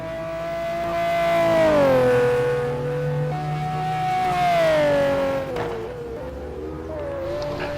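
A GT1 race car in a racing video game powers out of a corner at the Nurburgring, its engine holding a loud, steady tone that dips and then climbs as it accelerates, with no talking.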